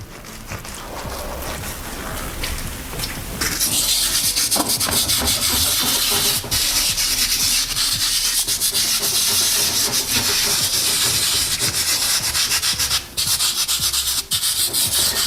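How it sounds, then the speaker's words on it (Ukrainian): A brush or sponge scrubs Mapei Keranet Crystal cleaner across a surface, making continuous loud, close rasping rubbing strokes with a few brief pauses and no voices. "беремо щітку, губку, неважно і розтираємо по поверхні"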